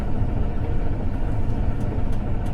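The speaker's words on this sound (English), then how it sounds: "the tractor doesn't need to be idling" A tractor engine idling, a steady low rumble close by that holds an even level with no other sounds.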